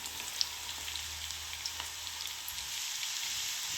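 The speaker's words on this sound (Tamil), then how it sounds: "எண்ணெய் நல்லா காஞ்சதையும் நம்ம பக்கோடா போடுறதுக்கு ஆரம்பிச்சிடலாம்." Ragi pakoda batter fries in hot oil with a steady, dense crackling sizzle that holds at an even level throughout. No voices are heard over it.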